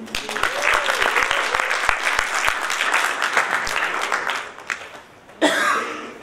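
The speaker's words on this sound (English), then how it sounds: "Please put your hands together." Audience at a Wendell Rodricks fashion show applauding steadily and loudly, with a few coughs mixed in, easing off briefly before a fresh burst of clapping at the end.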